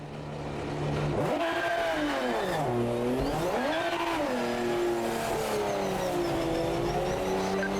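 A race car in the simulation game Project Motor Racing, driven around the Silverstone circuit, its engine swelling in and then rising and falling through several loud revving sweeps as it accelerates and shifts, no voices.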